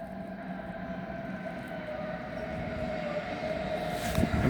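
A train at a platform rumbles steadily with a low droning hum and faint tonal whine, growing slightly louder toward the end, with no voices.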